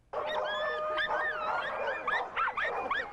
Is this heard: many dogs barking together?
yes